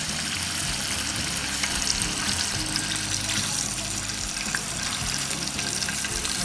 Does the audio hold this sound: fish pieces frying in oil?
yes